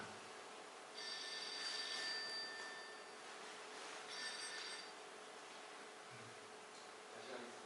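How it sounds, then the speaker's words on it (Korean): A mobile phone rings during a Buddhist lecture in a hall, two clear electronic ringing bursts at moderate distance, with faint room noise and brief murmurs between them. "전화기 좀 꺼주시죠"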